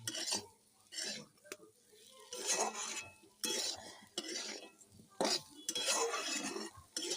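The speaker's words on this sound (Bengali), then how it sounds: "এই যে দেখুন নেড়ে দিলাম সুন্দর করে।" Food stirred in a pot on a clay stove, the spoon scraping and clinking against the metal in uneven bursts, close and fairly loud.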